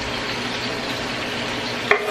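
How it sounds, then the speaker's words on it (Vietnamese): Minced lemongrass frying in a pan for tamarind lobster, giving a steady soft sizzle with stirring, close and fairly loud, with a brief clink near the end. "Thì mình sẽ cho sả băm nhỏ vào."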